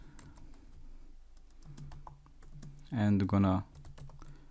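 Keys on a computer keyboard tapped in scattered light clicks at close range, with someone speaking briefly over the typing.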